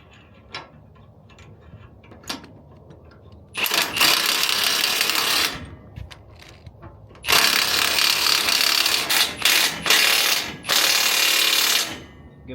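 Ratchet wrench tightening the top bolts on a Provenlocks lock, a few faint clicks first, then three long bursts of fast, loud clicking close by.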